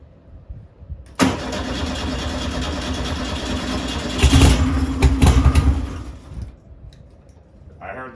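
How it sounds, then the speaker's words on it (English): A VW Super Beetle engine fitted with 40 IDF carburetors and no chokes cranks over from cold, a loud steady starter churn lasting about five seconds with a brief rise near the end before it stops. "Fuel pump. Cranking her over."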